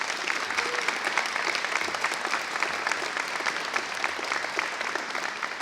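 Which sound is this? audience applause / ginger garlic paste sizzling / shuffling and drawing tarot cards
audience applause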